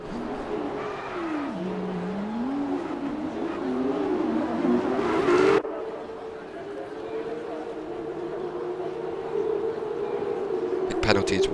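Race cars in the rFactor 2 sim pulling away at the start of a formation lap at the Austrian GP, a steady engine drone rising and shifting in pitch over continuous commentary, with a sharp change in the engine tone midway.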